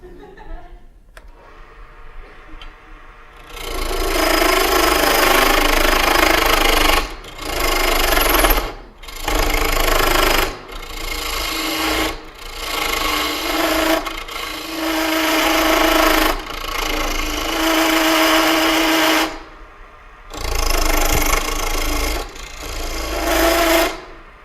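Wood lathe spinning a bowl blank at high speed while a chisel cuts into it, giving loud, sustained broadband grinding in long stretches broken by brief pauses as the tool lifts off.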